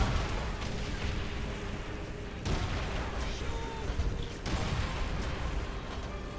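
Tank cannons fire in Call of Duty: World at War's Soviet campaign as T-34s battle Panzers, with a loud, dense, continuous barrage of booms and rumbling that briefly dips twice before surging again.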